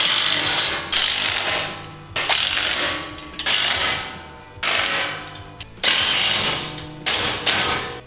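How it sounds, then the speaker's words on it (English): A ratchet tightens bracket nuts on a Razorback offroad expedition roof rack, giving loud, close bursts of rapid clicking in several strokes separated by short pauses, with no talking. "So I know I can tighten these up."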